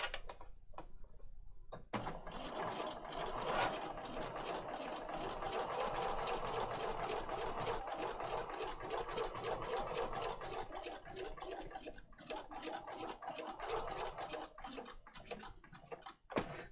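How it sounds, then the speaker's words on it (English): Sewing machine running a straight stitch down the middle of a piece with cream thread, a steady close mechanical whir with rapid ticking needle strokes lasting throughout, no voices. "so just a straight stitch just down the middle"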